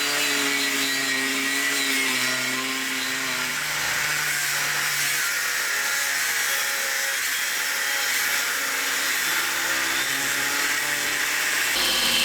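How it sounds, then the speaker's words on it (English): A drill press runs continuously in a workshop while knives are being made, a steady whining motor hum with shifting tonal bands and a dense hiss, loud and unbroken throughout. "Checking the drill press"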